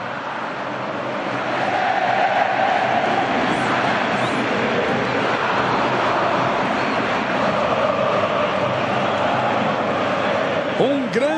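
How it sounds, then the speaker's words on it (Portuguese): Atlético Mineiro supporters fill the Mineirão stadium with a broad, continuous roar of massed chanting and singing, a dense crowd wash that holds steady and loud throughout without pause. "E você volta a ver a festa que faz a torcida do Galo."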